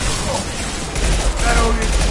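Loud, dense weapon fire in the video game Mass Effect, a continuous rumbling barrage with heavy low booms and no clear gaps between shots.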